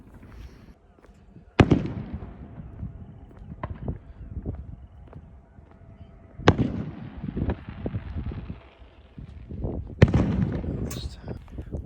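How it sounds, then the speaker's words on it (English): Fireworks going off in thick fog on Canada Day near a harbour: three loud booms spaced a few seconds apart, each with crackling rumble and echo, among scattered smaller pops and faint outdoor noise. "Well, you can hear the fireworks going off"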